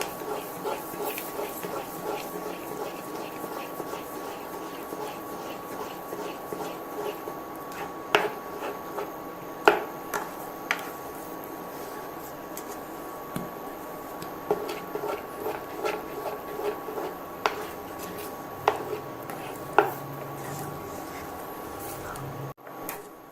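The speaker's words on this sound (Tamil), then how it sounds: "அதுலேருந்து கட்டியும் இல்லாமல் நல்லா கிண்டி விடுங்க." Semolina and sugar stirred in a pan for rava kesari, with soft repeated scraping strokes and occasional sharp clicks over a low steady hiss, fairly faint and close.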